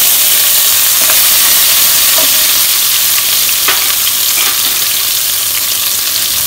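Green chilies hit hot sesame oil with mustard seeds and urad dal, producing a loud, dense, continuous sizzle with scattered pops and crackles; no talking.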